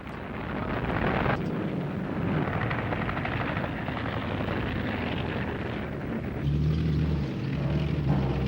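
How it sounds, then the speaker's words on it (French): A WWII Junkers Ju 87 Stuka dive bomber drones as a steady, rumbling engine roar that holds for several seconds, swelling slightly near the end, with no voices. "notamment aux bombardiers en piqué Junker 87"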